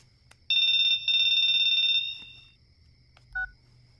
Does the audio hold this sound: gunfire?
no